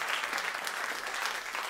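A crowd at an album launch event claps and cheers in a dense, continuous burst of applause, loud and close.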